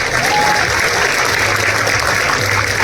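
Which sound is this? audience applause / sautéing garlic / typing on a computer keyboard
audience applause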